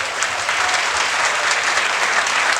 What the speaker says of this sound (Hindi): अच्छा लगा तो आगे से पीछे तक जोरदार तालियां होना चाहिए।